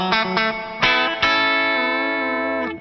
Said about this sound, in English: Number seven is a spring reverb.